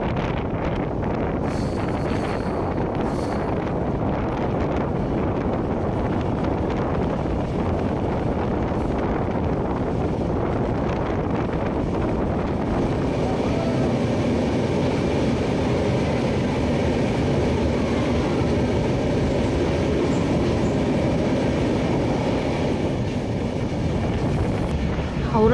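The Samaleswari Express, a Howrah to Jagdalpur passenger train, runs with a loud, continuous low rumble and rush of wind, heard from on board. The roar stays steady and dense throughout and thickens slightly partway through.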